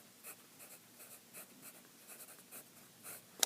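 Pen or pencil strokes write out letters by hand, a soft scratchy series of short marks, close and faint with no talking.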